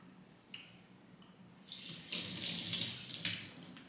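A kitchen tap runs while something is rinsed under it, at first a faint trickle, then a fuller, louder splashing stream that keeps going steadily to the end, close by.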